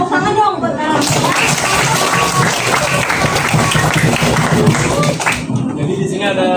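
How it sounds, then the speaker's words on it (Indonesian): An audience of students claps for Nara at a school presentation, a loud burst of dense clapping that starts after a second and runs about four seconds before fading out. "Tepuk tangan dong buat Nara."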